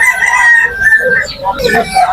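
Chickens at the Fatullah duck and chicken market in Narayanganj, Bangladesh: a loud, close rooster crow rings out over clucking and busy market chatter.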